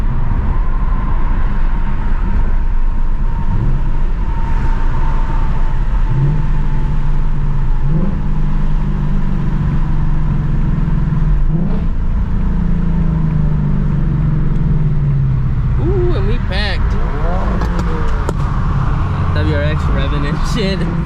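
Cars in traffic near a gas station rev their engines, including a loud 2024 Mustang GT and other S650 Mustangs, a constant engine drone with rising revs over road noise while people talk.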